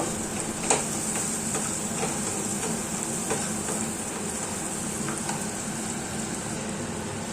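Food stirred in a pan after a pinch of sugar is added, with a steady sizzling hiss throughout and faint, occasional scraping taps of the utensil beneath it, close by and without talk.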